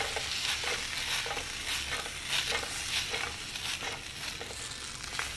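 Baby corn manchurian is tossed in a pan with a soft, rhythmic clatter and swish over a light sizzle. The repeated tosses are close, and no one talks.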